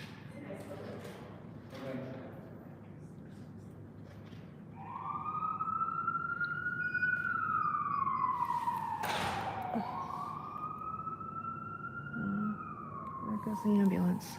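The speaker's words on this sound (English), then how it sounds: "There goes the ambulance." An ambulance siren wails as it passes along the street, rising in and sweeping down in pitch over several seconds against steady traffic rumble, with a second tone overlapping near the end.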